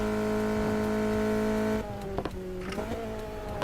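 Car engine in the racing video game NFS Heat holds a steady, loud drone, then the throttle lifts and the exhaust lets out a few sharp pops and crackles on overrun as the revs fall away.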